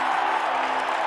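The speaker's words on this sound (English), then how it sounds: "Mouse exiting to tumultuous applause." A short burst of dense, steady crowd applause plays as a TV show sound effect, a full even wash of clapping with no gaps.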